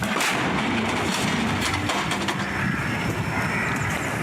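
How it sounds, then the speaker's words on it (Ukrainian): A Ukrainian artillery gun fires a shot on the front line near Bakhmut, giving a loud, close blast that booms out and then rolls into a long, rumbling echo with mechanical clanks. "Від пострілу здригається земля і закладає вуха"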